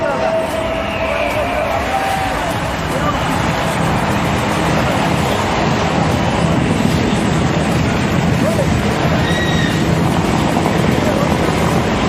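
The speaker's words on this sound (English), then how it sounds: "The helicopters will cross head-on and perform synchronized stall turn. Please look straight ahead for high-speed cross." Sarang display team helicopters cross head-on at high speed at the Chennai air show, a loud continuous roar of rotors and engines mixed with crowd and wind noise, with a public-address voice talking over it.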